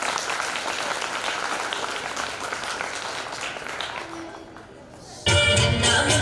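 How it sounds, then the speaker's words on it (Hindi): Loud applause from a school audience at Sanatan Dharma Kanya Inter College in Jhansi, honoring a young child performer; dense clapping fills the scene, dips briefly, then surges louder near the end. "तो उसके लिए एक बार जोरदार तालियां"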